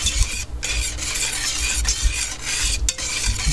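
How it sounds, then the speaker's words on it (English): Ingredients melting in a pot are stirred continuously, a close scraping and rubbing sound with brief pauses between strokes. "You keep stirring the pot"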